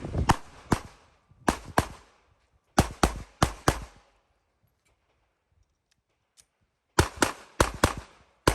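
Glock 48 pistol shots fired at targets in sharp, loud strings of two to four, then a quiet gap for a reload, then another rapid run of shots.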